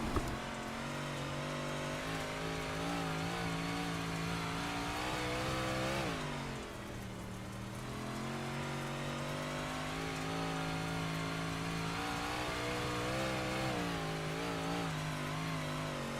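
Onboard a race car on a dirt oval track, the engine roars loud and continuous, rising and dipping as the throttle rocks back and forth, with one deeper lift off midway, no talk.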